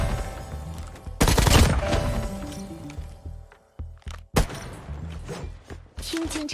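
Bursts of HVK-30 assault rifle fire in Call of Duty Mobile, a loud rapid volley near the start followed by sharper scattered shots and game effects, with a voice talking over parts of it.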